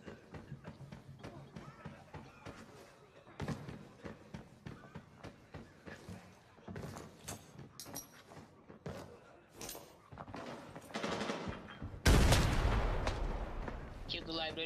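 Gunfire in the Arena Breakout video game, with repeated sharp shots in uneven bursts, some distant and some close, while players talk over the fighting and one louder blast comes near the end.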